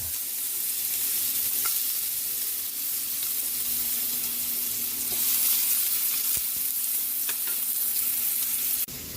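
Ginger sizzles in hot cooking oil in a pan, a close, continuous bright crackle and hiss with a few faint stirring taps, and a sharp knock near the end.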